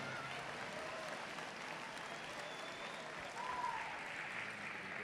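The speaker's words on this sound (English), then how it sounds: "please give yourself a big round of applause" Faint, distant applause from students seated in the stands at a high school awards ceremony, a soft, steady wash of clapping heard from afar with a slight swell near the end.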